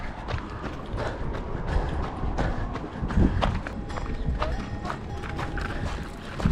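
Pony hooves clip-clop steadily on hard ground at a tourist stop in Cappadocia near Uçhisar, with camels nearby; a near, continuous rhythmic clatter with occasional faint voices.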